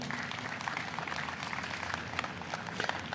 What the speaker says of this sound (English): So I want to give them a big round of applause too.